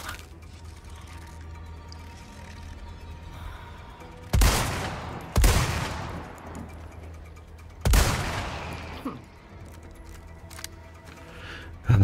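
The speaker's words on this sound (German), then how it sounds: "Das waren 2 Schüsse zu viel." Gunshots in the video game Resident Evil 4 Remake: three loud, sharp blasts with ringing decays, spaced a second or two apart, and a fourth blast at the very end, over a low game ambience.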